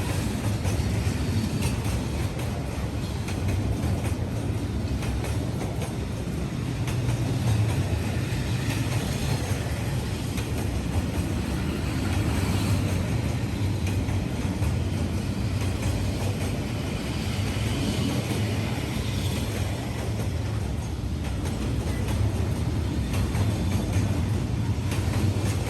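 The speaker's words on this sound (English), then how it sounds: "I'm the freight train, long, powerful, and unstoppable, moving tons of cargo across the land." A long freight train rumbles past, its steady low roar and rail noise continuing unbroken and loud throughout, with faint clatter from the wagons.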